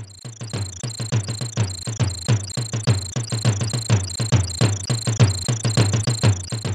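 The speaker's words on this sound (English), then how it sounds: "Our intro is nothing more than a repeated jungle drum riff, accompanied by the sounds of the wild animals in the environment" Jungle intro of a track from Donkey Kong Country, a steady repeated drum riff pounding in a tight rhythm beneath high chirping, insect-like animal calls that run continuously throughout.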